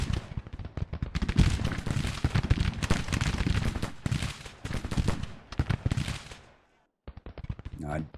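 Dense volleys of American Civil War musket and cannon fire in Grand Tactician: The Civil War, heavy crackling bursts rolling on for several seconds before a brief silence, then firing resumes faintly.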